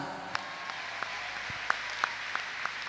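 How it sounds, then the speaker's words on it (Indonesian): At an Indonesian Islamic religious gathering, a few scattered handclaps from the audience sound one by one, sparse and fairly quiet over a low hum, with no voices. "tepuk tangan"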